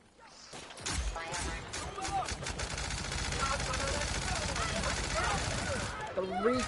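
Rapid automatic gunfire from a weapon in a video game, a dense continuous burst of shots lasting several seconds and fairly loud.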